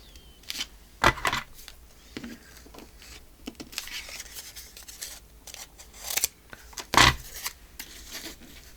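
Scissors cutting paper while a handmade journal is repaired, heard as scattered crisp snips and a few sharper cuts between quiet handling rustles, close to the microphone.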